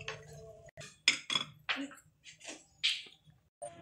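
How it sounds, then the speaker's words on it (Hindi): Chili sauce and tomato sauce being mixed in a pan for chicken chow mein, quick clinking and scraping strokes of a utensil against the metal in an irregular rhythm, close and fairly soft. "अब मैंने इनको ना अच्छी तरह मिक्स करना है।"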